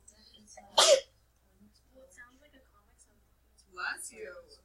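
A single sharp sneeze bursts out nearby in a classroom, followed by faint murmuring and a short stretch of quiet talk afterward.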